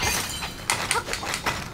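Purple crystals smashed in The Legend of Zelda: Link's Awakening on Switch, several quick bright glassy shatters in a row, loud and close.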